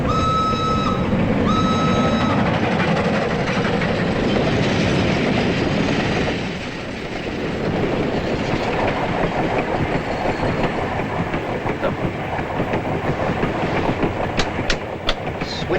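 A European passenger train rolls along its rails with a continuous rumbling roar and steady clickety-clack, heard from inside a carriage; a brief high tonal whine appears early, and rhythmic wheel clatter grows more distinct toward the end.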